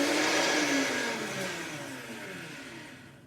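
A Vitamix blender grinds cashews into fine meal, its motor howling loud and steady and then easing slightly in pitch and volume as the nuts break down, with no voices.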